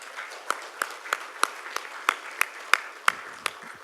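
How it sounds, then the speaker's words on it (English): Scattered, fairly sparse clapping from an audience at the Balipara Foundation Awards 2016 ceremony in Assam. Individual claps ring out at a steady pace over a soft room hum, with no talking. "So we need him a round of applause."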